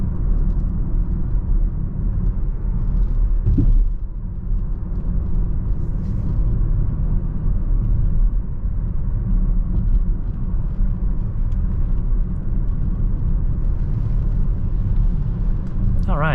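A 2019 Chevrolet Blazer RS FWD cruising at around 40 mph, a steady low engine and road rumble heard from inside the cabin, even and unbroken, with someone talking over it.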